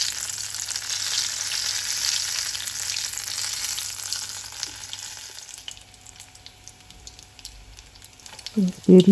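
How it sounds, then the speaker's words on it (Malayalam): Potato and chicken evening snacks fry in hot oil with a dense, steady hiss that gradually eases, ending with a few louder clatters. "സ്പീഡിൽ മതി പൊരിച്ചെടുക്കട്ടെ കേട്ടോ"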